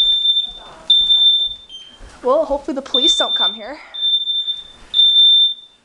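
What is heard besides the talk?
smoke alarm beeping after bacon burnt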